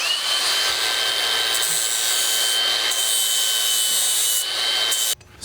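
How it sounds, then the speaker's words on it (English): A grinder strips paint from the metal edges of a bracket on a Ford Festiva ahead of welding, giving a loud, steady abrasive whine for about five seconds before cutting off abruptly. "I've taken the time to grind off a section here to mock up"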